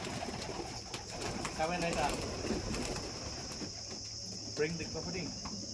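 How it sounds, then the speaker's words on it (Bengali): Pigeons cooing outdoors alongside a constant high insect drone, soft and somewhat distant, with voices talking over them at times. "এটা কি আব্দুর রহমানের কবুতর"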